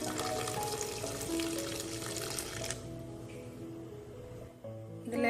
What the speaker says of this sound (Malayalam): ഇതിലേക്ക് നമുക്ക് തണുത്ത വെള്ളം ഒഴിക്കാം.